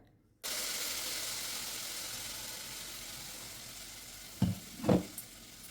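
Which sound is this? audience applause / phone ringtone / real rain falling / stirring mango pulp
stirring mango pulp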